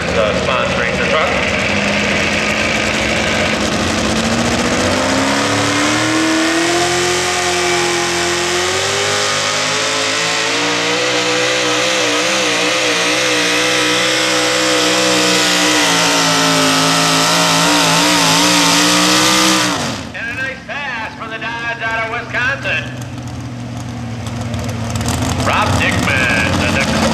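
A modified 4x4 pulling truck at an NTPA Grand National truck pull in Fort Recovery roars at full throttle for about twenty seconds, a loud sustained engine howl that rises in pitch, then cuts off abruptly, leaving crowd noise and an announcer's voice.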